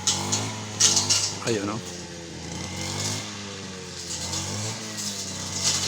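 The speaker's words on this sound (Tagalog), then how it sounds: "Dalawa silang naga-grass cutter." Two grass cutters trimming an overgrown rural plot in the Philippines, a steady buzzing motor drone running throughout while someone talks over it.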